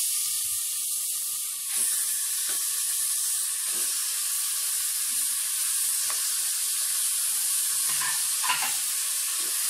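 Tomatoes, herbs and mutton sauté in a pot for a mutton biryani, giving a steady close sizzle and frying hiss throughout, with occasional soft stirring scrapes and no talk.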